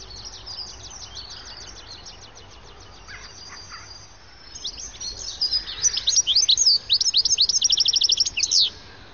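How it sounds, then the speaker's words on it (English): Goldfinches in a flock keep up a liquid, tinkling twitter, faint thin chirps at first, then a louder, rapid run of bright trilling calls near the end. "goldfinch charms often keep up an almost constant twitter"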